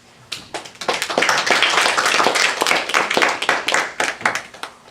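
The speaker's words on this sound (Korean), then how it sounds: "환영의 그런 인사하고 박수 한번 하겠습니다" A church congregation claps in welcome for an arriving pastor, a lively burst of many hands that swells quickly and then thins out over a few seconds, with a faint voice under it.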